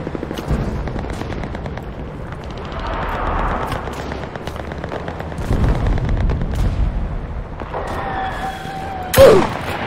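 Video game gunfire during a shooter match, with repeated sharp shots and bursts spread across the stretch, some crackling and rumbling, and a louder blast near the end.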